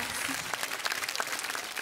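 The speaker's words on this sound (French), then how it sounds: "applaudissements, mais très fort." Applause from a TV studio audience on a French talent show, a brief burst of dense, lively clapping heard close and on its own.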